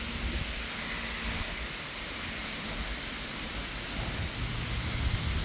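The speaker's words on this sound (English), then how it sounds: "Now it stopped raining a bit. It's not raining as hard." Steady rain falling outdoors along a roadside, a dense even hiss with low rumbling underneath that could be distant thunder, continuous throughout with no speech.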